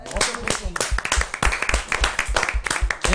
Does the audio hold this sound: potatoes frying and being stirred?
no